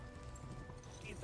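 Galloping horse hooves thud in rapid rhythm in Kingdom Come Deliverance, blended with game ambience under steady speech over the short stretch.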